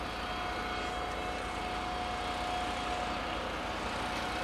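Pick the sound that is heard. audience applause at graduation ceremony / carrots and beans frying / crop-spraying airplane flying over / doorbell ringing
crop-spraying airplane flying over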